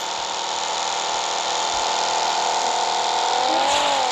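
A vehicle engine drones steadily while racing in PUBG Mobile, a buzzing, humming motor tone held throughout that climbs in pitch near the end as it revs, with no talk over it.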